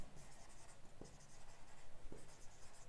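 Pen or chalk writing on a board during a maths lesson on solid shapes, a soft continuous scratchy stroke sound running through the whole stretch with brief pauses between strokes, fairly faint and close, with no talking.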